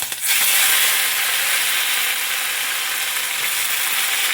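Sliced raw plantain added to hot oil with mustard seeds and curry leaves, giving a loud, steady hissing sizzle that starts at once and holds for a few seconds with no talk.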